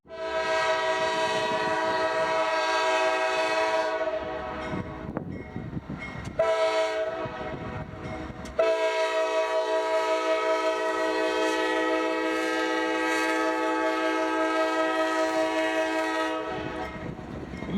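A Norfolk Southern train passes close by on a CSX line, its multi-tone horn blaring in long sustained blasts with brief breaks, over a low rumble of rolling wheels.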